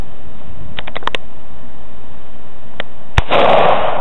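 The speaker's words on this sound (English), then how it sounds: "Keep shooting. Keep shooting." A gun with a dot sight fired repeatedly: a quick cluster of sharp pops, then a couple of spaced single shots, ending in a louder blast with a noisy rush.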